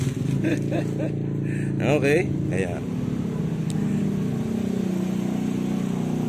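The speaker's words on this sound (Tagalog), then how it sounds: "Ang ingay ng mga motor eh." Motorcycle engines rumble loudly as they pass close by, a steady drone under a man's speech at the start.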